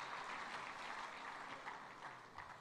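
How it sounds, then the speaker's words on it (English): Steady applause from a crowd at the opening ceremony of a Commonwealth business forum, broad and even throughout with no voices over it. "Let's give them a round of applause as they stand up"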